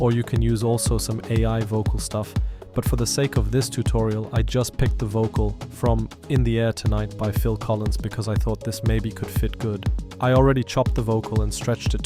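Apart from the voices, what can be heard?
None of the usual background noises is heard.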